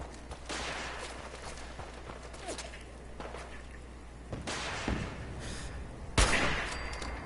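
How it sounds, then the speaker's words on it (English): Enemy gunfire in Fallout 4, as super mutants fire on a companion with mini nukes or missiles overhead: scattered cracks and thuds over a low hum, building to louder, sharper shots near the end. "They're just firing at my companion."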